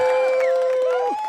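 A canned crowd-cheering effect fires from a RODECaster Pro podcast board, loud and close, with rising whoops and shouts layered over a dense crowd roar for about a second before easing off.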